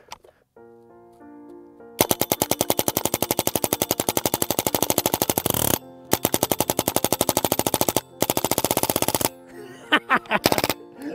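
An SMG 22 submachine gun fires long rapid bursts into a case of soda cans, loud close rattling strings of shots separated by brief pauses, ending in a few short scattered bursts.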